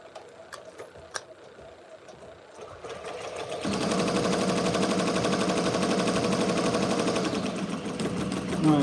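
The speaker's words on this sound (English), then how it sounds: "now it's embroidering" A Ricoma MT-1501 embroidery machine starts up after a few quiet clicks and handling noises, then settles into loud, fast, steady stitching that runs to the end.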